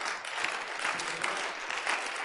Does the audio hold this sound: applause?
yes